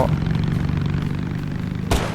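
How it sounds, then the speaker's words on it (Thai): Rapid, dense gunfire rattles continuously at close range in the video game Totally Accurate Battlegrounds, ending in a sharper burst near the end, all with no talking. "มีเสียงปืน"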